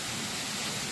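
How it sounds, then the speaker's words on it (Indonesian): Air Terjun Perawan, a waterfall near Trawas in Mojokerto, rushes as a steady hiss of falling water, moderately loud and even across a brief stretch with no voices. "Kita udah sampai di air terjun, katanya namanya air terjun Perawan."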